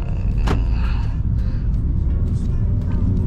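A 2015 Honda Grace Hybrid car on 7-inch rims drives along with a steady low road and engine rumble, continuous and close, with faint higher noise riding over it.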